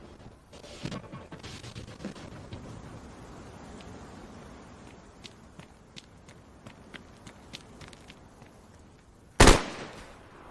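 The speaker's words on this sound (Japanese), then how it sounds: "めっちゃ銃声した。" In the video game DayZ, quiet shuffling footsteps and small clicks patter along, then a single loud, sharp gunshot cracks near the end.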